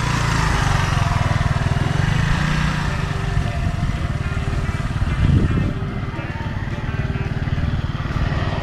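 A learner's motorcycle engine drones steadily at close range as the bike rides back and forth on a practice lot, its pitch dipping and rising slightly with speed, with a brief knock partway through.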